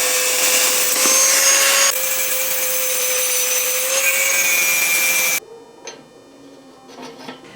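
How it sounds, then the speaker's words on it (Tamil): A grinding machine shaves down a metal rod so it will fit a bearing for a homemade water pump. A loud, steady abrasive whine runs for about five seconds, then cuts off, leaving quieter scraping and handling noises. "கிரைண்டிங் மிஷின் வச்சு நம்ம தேய்ச்சி எடுக்கணும்"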